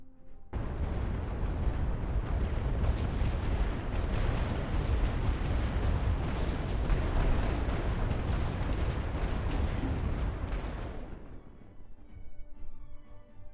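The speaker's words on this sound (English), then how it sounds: "Alright, here we go. 10 days of bombardment." Massed artillery bombardment in a Great War Western Front video game: a dense, continuous roll of booming shell blasts and deep rumbling explosions, loud and sustained for about ten seconds before fading out.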